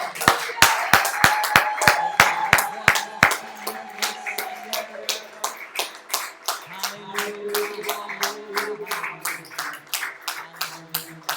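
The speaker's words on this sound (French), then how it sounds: "acclamez très fort" A church congregation claps in a fast, steady rhythm of sharp claps, with voices singing or shouting over the opening seconds before the clapping carries on with some cheering underneath.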